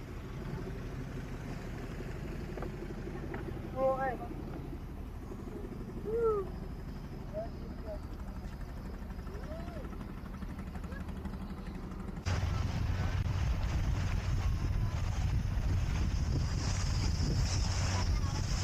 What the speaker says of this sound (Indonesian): Sekarang kami mau melanjutkan lagi perjalanan kami naik taksi sungai menuju ke Pagatan.